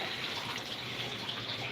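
Water is poured into a pot of beans, a continuous, close splashing rush that stays even and steady throughout with no voices.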